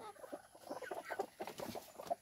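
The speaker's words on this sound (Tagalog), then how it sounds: "yung manok ko may sisiw na" A hen clucks softly among newly hatched chicks, a quiet run of short rhythmic clucks and faint peeps close by.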